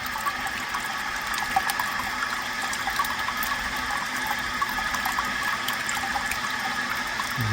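Water runs steadily into a home-brewing kettle, a constant hissing rush of filling liquid, moderately faint with no voices.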